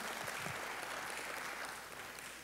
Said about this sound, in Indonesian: Beri tepuk tangan bagi Allahmu saudara.